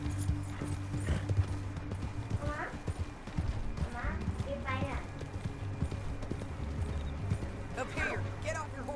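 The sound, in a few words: horse hooves clip-clop, video game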